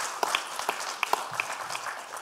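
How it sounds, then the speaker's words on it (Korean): Light applause from a conference audience at a panel discussion on women in finance, with a few sharp distinct claps standing out over a thin, steady patter. "동의하시면 박수 한번 쳐드리시죠"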